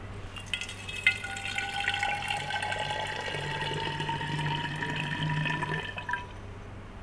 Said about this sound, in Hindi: एक बार मैं इसमें पानी डाल के दिखाता हूँ आपको